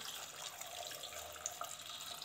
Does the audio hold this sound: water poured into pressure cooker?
yes